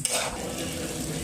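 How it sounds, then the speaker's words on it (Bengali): Chicken pieces with winter spring onions frying in a pan with potatoes, a steady close sizzle with scraping stirring throughout, no voices. "আর এইগুলোকে কিন্তু ভালো করে ভাজতে হবে এর সাথে"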